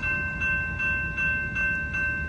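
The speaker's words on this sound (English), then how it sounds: "here comes Amtrak, San Joaquin bound train, 712" An Amtrak San Joaquin passenger train, number 712, rolls past at Figarden Drive in Fresno, California, a loud, close rumble with rhythmic wheel clacks and a steady high tone held throughout.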